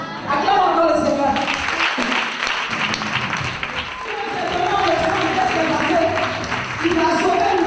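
A church congregation in Abidjan claps and acclaims the Lord during a worship service, applause rising and falling across the hall while a voice speaks over the clapping.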